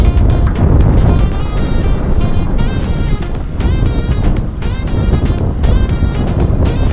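Wind blowing outdoors on a mountain road drive near the Hoces de Vegacervera, a steady loud rushing roar buffeting the microphone throughout, mixed with road and engine noise, no talking.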